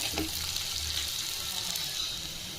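Green chillies sizzling and frying in a hot pan, a close, steady crackle with faint stirring scrapes throughout.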